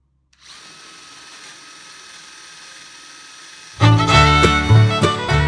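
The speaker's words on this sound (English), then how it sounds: "We decided to drill countersinks and pilot holes for the stainless steel screws that would hold the keel to the transom knee" Power drill boring countersinks and pilot holes in wood for stainless steel screws joining a dinghy keel to the transom knee: a steady motor whine, then a louder, rougher grinding surge as the bit bites.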